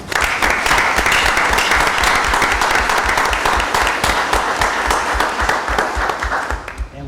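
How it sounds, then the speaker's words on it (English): Sustained applause from an audience at a board of education meeting, dense and steady for about seven seconds with sharp individual claps standing out, fading slightly at the end. "if we could give him a round of applause"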